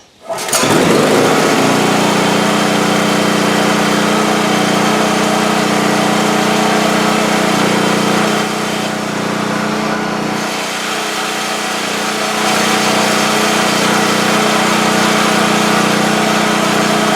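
A used Sportsman generator engine, just repaired with a new fuel hose and cleaned carburetor, starts abruptly and then runs at a loud, steady, even drone throughout, close by with no talking.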